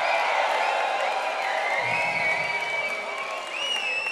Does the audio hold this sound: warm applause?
yes